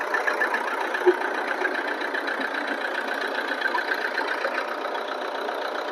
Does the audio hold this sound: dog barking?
no